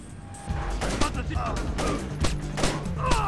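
Gunfire in the Splinter Cell oil rig level, a steady run of sharp shots in quick bursts over constant background game noise.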